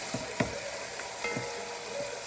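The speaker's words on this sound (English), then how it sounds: "so now we put our onions in, spread them around a little bit" Onions frying in hot butter and oil in a pan, a steady soft sizzle with a few light stirring scrapes and taps, fairly quiet and close.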